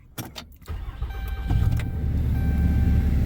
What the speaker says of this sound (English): let's go ahead and start it up, let you hear it